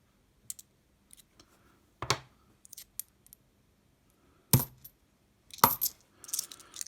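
Australian copper two-cent coins are sorted by hand and dropped onto a pile, giving sharp metallic clinks and jingles scattered between quiet gaps, with a few louder clattering bursts up close.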